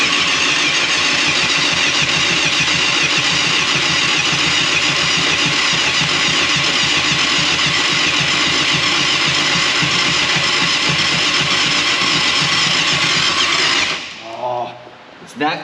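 A 1989 Yamaha FZR600 Genesis motorcycle, old and with stale fuel, cranking hard on the starter in a loud, continuous, rapid churning whirr for about fourteen seconds before stopping abruptly, with a voice heard briefly at the end.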